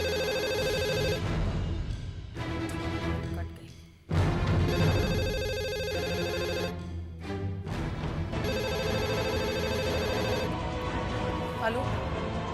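A telephone ringtone repeats through a loud Bhojpuri drama scene, sounding as steady electronic tones over continuous background music.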